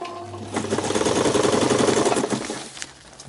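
A sewing machine runs in a steady rapid stitching rattle through fabric for about two seconds, then slows and stops, close and fairly loud with no talking.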